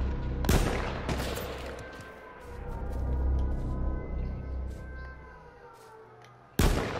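Gunfire in the survival shooter H1Z1: a sharp shot near the start, more cracks around one second and a loud blast near the end, with rumbling background and faint talk between players.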